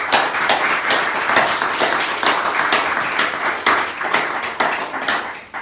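An audience at a Santa Muerte spiritual gathering applauds, a dense burst of hand clapping with irregular loud claps standing out, sustained for several seconds and close, with no talking.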